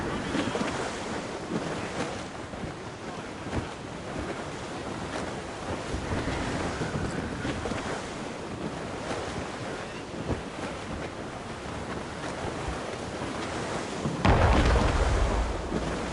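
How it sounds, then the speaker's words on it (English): Stormy wind and rough ocean surf in Assassin's Creed Rogue during a squall at sea aboard a sailing ship: a steady, loud roar of wind and crashing waves throughout, swelling into a heavier gust near the end. "Careful! It's quite a rough squall, Captain."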